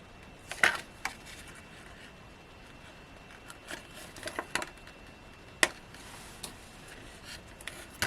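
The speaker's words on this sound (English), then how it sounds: "pop my scissors very carefully between the frame and the acetate and just cut round" Scissors snip carefully around a card frame, trimming acetate during cardmaking with Hunkydory's Everlasting Poppies collection: quiet close crisp cuts and plastic crinkles in irregular bursts, with a few sharper clicks and no talking.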